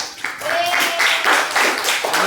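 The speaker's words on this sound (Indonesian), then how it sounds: "Tepuk tangan" A class of students claps together in a classroom lesson, with short rhythmic bursts of hand claps at close range. Voices come through alongside the clapping.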